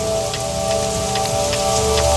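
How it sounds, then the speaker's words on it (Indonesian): Heavy rain falls late at night as a steady, loud, dense hiss with scattered drop patter all the way through, with no voices. "Kenapa sampai larut malam gini belum berhenti ya hujannya?"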